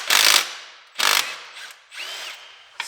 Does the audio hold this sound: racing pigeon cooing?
no